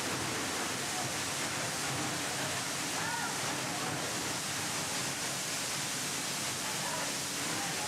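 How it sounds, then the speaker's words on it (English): Spectacular waterfalls cascade in a steady, full-bodied roar of rushing water, an unbroken broadband wash that holds constant throughout with no distinct individual splashes. "the cascading water flow of spectacular waterfalls"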